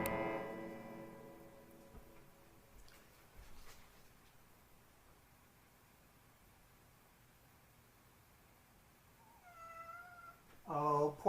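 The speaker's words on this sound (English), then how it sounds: "You guys can probably hear him meowing." A cat meows at the start, then quiet room tone, followed by two more rising meows near the end, close and moderately loud.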